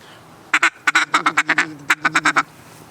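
A double-reed duck call sounds a close, loud run of about a dozen quick quacks over two seconds, blown by a person imitating a duck.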